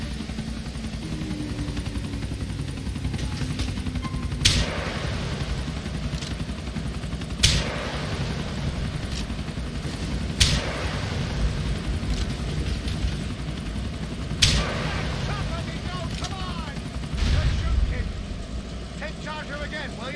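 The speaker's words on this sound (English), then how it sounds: "Get rid of the chopper with it." Helicopter rotor drone from GTA IV runs under constant engine and boat rumble, with sharp impacts or shots recurring every few seconds and voices talking over it.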